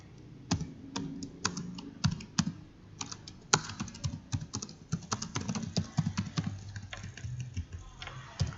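Fingers type an address on a computer keyboard while filling in a supplier record in MYOB accounting software, giving rapid, irregular close clicks and clacks with occasional heavier key strikes and no voices.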